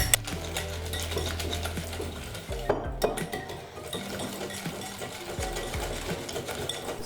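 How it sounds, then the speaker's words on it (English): Thick pancake batter made with kefir is whisked vigorously in a bowl, producing a continuous rapid scraping and rattling that runs throughout, close up, with a few brief pauses. "you can whisk it really vigorously to get rid of all of the lumps in your batter."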